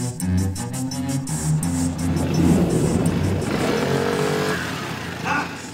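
A motorcycle creeps along a narrow 15-metre plank course at a driving event, its engine puttering at low revs with small throttle blips, close and steady, ending in a brief rise.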